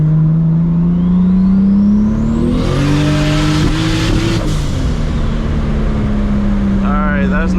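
Toyota MKIV Supra engine pulling hard in second gear at full boost, a loud rising roar with climbing pitch, then cutting out abruptly and dropping back to a steady drone, recorded close from inside the car.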